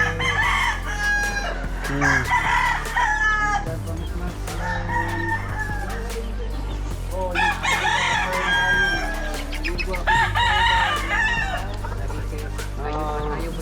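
Several roosters crow loudly and repeatedly, their calls overlapping with clucking hens and a low background rumble.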